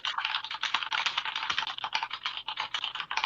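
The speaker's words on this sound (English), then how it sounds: "that's me typing" Quick, continuous typing on a computer keyboard during a game session, dense clattering keystrokes in an irregular rhythm, close and soft, with no talking.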